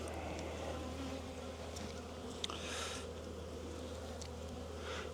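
Bees hum in a sparsely populated, queenless hive during a spring inspection of an insulated condensing hive; the buzzing is a steady, close, low drone that continues unbroken with faint rustling above it.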